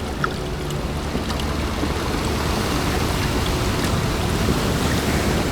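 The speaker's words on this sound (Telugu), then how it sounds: "పడవ గిరగిరా తిరుగుతూ నీటిలో మునిగిపోతుంది." A steady, continuous wash of churning water and waves, loud and close, with no voices.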